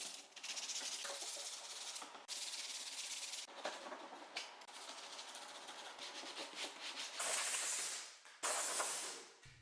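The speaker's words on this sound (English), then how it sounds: "We'll just start by sanding the whole surface" A 2015-2023 Ford Mustang center console is sanded by hand with 120-grit sandpaper. The scratchy rubbing runs steadily and close up, broken by a few short pauses between strokes.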